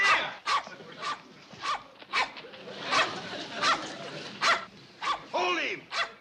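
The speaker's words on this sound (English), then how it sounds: "Get that buffalo dog away from him!" A dog barks in a rapid series of sharp, loud barks during a rural chase after a buffalo, with excited shouting voices mixed in underneath.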